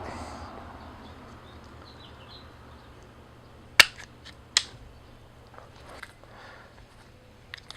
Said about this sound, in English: So we have the brown wire here. We're going to clip it a little cleaner. And we're going to strip 1/8 of an inch off of it.